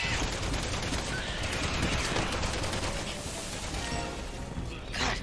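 Rapid bursts of gunfire from the video game Resident Evil 6 crackle densely and loudly for several seconds, overlapping in a fast, continuous fusillade with clattering impacts.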